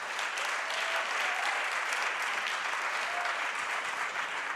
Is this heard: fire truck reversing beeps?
no